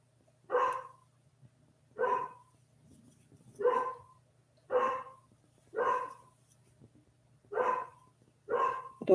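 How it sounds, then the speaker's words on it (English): Indoors, a dog barks in a steady run of single woofs, about one every second, fairly close and clear, with a quiet electrical hum underneath. "I don't know why she's barking."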